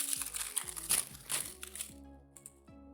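Paper wrapping is pulled off a new keyboard, crinkling and crunching up close for about two seconds before fading to a quiet rustle.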